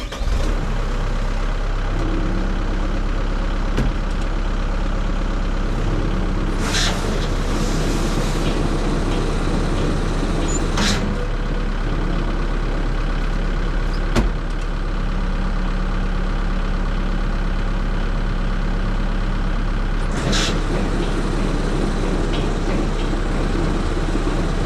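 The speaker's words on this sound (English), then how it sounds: "Blower is working, which we didn't have an issue with." Snow blower on a snowplow truck running steadily, a continuous loud mechanical drone with engine idle underneath and a few sharp clanks or knocks along the way, no talking.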